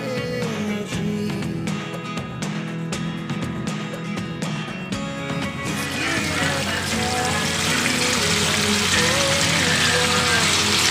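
Sauce bubbles and sizzles in a pan on a farm kitchen stove, a steady close simmering hiss with soft popping that swells louder and brighter toward the end, with no voices.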